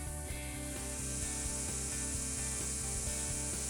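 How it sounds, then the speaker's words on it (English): A Greenworks electric string trimmer head spins steadily at a constant pitch throughout, alone and fairly close, with no talking. "While holding the lockout button, pull the trigger. The trimmer head will begin to spin."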